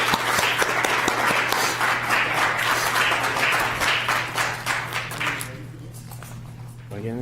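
A room at a police commission meeting breaks into a round of applause honoring deployed service members: steady, dense clapping over a low hum, thinning out toward the end.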